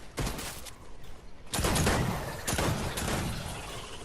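Bursts of rapid gunfire from a small gun in the Fortnite video game, loud close volleys separated by short gaps, with no talking.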